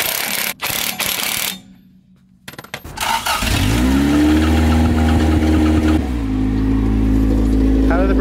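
After a few clanks and a quiet pause, a Toyota Corolla TE72's engine starts and runs steadily on a test drive, rising in pitch as it accelerates, loud and close.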